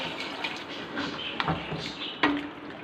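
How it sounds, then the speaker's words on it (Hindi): A glass of water poured into pumpkin frying in a pan gives soft splashing and sizzling, with a couple of sharper clinks of glass or utensil against the pan, close and moderately quiet. "इसके अंदर अब 1 गिलास हम पानी का डालेंगे"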